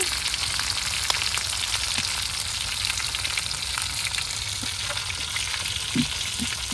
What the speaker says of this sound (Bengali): পেঁয়াজ রসুন আর মরিচ তালা হয়ে গেছে